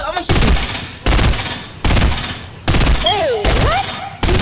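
Rapid automatic gunfire in the Fortnite video game comes in four loud, close bursts separated by short pauses. A voice briefly squeals and chatters between the later bursts.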